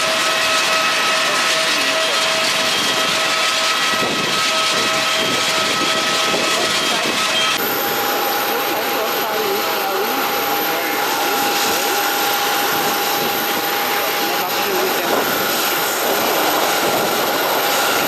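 Airliner cabin during flight, filled with a steady, loud roar of jet engines and airflow that holds constant throughout, with a faint tonal whine running over the broadband rush.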